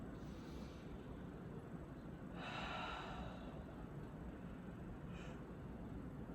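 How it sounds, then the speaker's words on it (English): A person lets out a long, breathy yawn while stretching the whole body on a floor during a yoga-style flow, a soft drawn-out exhale swelling in the middle and fading, with a brief breath near the end over steady background hiss. "I find that I always yawn when I stretch like that without fail."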